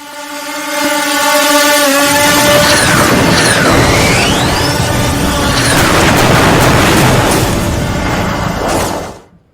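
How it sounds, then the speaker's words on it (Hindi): A drone attack near the Afghanistan–Pakistan border sets off a loud, sustained roar of blasts and rumbling debris lasting several seconds, with faint whistling tones mixed in before it fades out abruptly. "अफगानिस्तान से ड्रोन गए हैं पाकिस्तान की सीमा के अंदर और वहां धमाके हुए"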